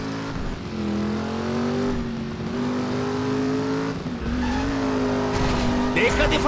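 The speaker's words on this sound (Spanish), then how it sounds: "¡Ah, qué derrape!" A car's engine revs hard with a rising, wavering whine while tires squeal in a drift in Driver San Francisco, loud and sustained, with game effects layered over it.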